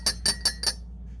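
A cup of glass or ceramic being touched and clinked, giving four quick bright chinks in a short even run that ring briefly before a low background hum.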